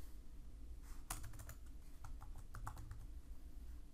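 Typing on a computer keyboard while entering node names in a code architecture tool: a quick burst of close, crisp key clicks in uneven rhythm over a low steady hum.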